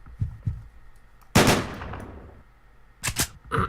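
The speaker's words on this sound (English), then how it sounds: "Is that a machine gun?" Machine gun fire in the video game Deadbolt, in sharp bursts: a couple of quick shots, then a longer loud burst with a decaying tail, then a rapid cluster of shots near the end.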